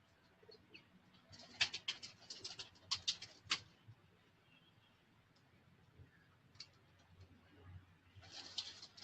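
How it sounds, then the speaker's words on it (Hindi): Breeder pigeons on a rooftop loft give soft, low coos and scattered bird calls, faint and fairly distant, with a few sharper chirps and ticks against quiet outdoor background. "ये जी कुछ ब्रीडर कबूतर हैं इधर भी।"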